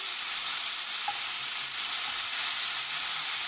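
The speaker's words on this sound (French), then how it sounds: "on les fait cuire sans trop les faire cuire" Perch fillets with saffron frying in a pan give a steady, even sizzle and hiss that runs unbroken throughout, with no voices.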